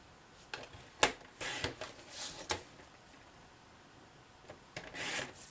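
Cardstock sliced with a paper trimmer: several short, crisp scraping and slicing strokes with soft clicks, quiet and close, separated by pauses.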